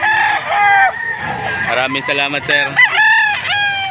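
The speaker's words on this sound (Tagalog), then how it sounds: "ito po yung dalang manok ni sir" Roosters crow repeatedly at a busy rooster market in Padre Garcia, Batangas, several long harmonic calls overlapping close by, with someone speaking briefly over them.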